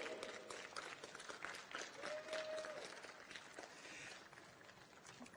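Crowd applause rises around a motor racing podium ceremony at Fuji for the Blancpain GT World Challenge Asia 2019, a dense, fairly distant wash of clapping mixed with murmur and a brief whistle-like tone.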